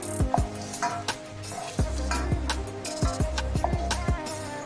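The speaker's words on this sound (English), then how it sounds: "I'm going to dish this one out." Metal spatula scraping and stirring cooked food out of a frying pan while making homemade zongzi, a run of close, sharp scrapes over a low sizzle with no talking.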